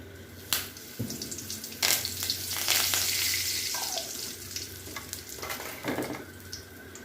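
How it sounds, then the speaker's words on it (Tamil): Hot oil sizzles steadily with sharp crackles and pops of mustard seeds bursting while tempering for tomato chutney, close by, with a faint clink of utensils. "தாளிக்க மீண்டும் சிறிது எண்ணெய் விட்டு அது காய்ந்ததும் கடுகு சேர்க்கவும்."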